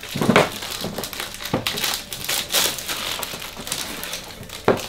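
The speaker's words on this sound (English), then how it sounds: "take it out of the plastic." A brand-new skateboard deck pulled out of its plastic wrap, giving repeated loud crinkling and crumpling bursts in an irregular rhythm, close up with no talking.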